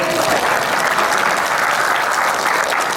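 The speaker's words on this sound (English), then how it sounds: "Russ has gotten enough applause over his illustrious career" Audience applause at a baseball relaunch event, a dense steady wash of clapping from a crowd filling the whole moment at constant loudness with no voices over it.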